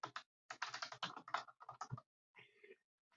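Close, quiet typing on a computer keyboard: quick runs of key clicks for about two seconds, a short pause, then a brief final burst of keystrokes.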